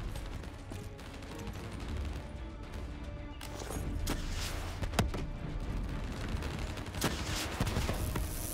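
Turret machine gun in Call of Duty Black Ops 3 firing amid battle, dense rattling bursts and scattered sharp cracks over a rumbling wartime din, moderately distant and continuous, no talk.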